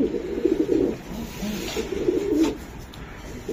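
Racing pigeons coo nearby in a series of low, throaty, rolling calls. Two or three distinct cooing bursts are separated by brief pauses over light background noise.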